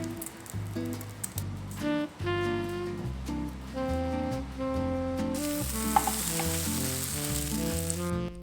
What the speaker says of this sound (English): I flipped my omelette in half and let it cook for a few more minutes.